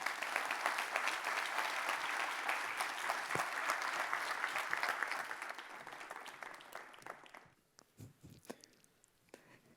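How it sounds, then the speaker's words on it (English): Audience applause greets the Space Force Vice Chief of Operations, General Shawn Bratton, and a guest coming onto the stage for a fireside chat. The clapping is loud and dense, then fades after about five seconds into scattered claps and room noise. "Please give them a round of applause."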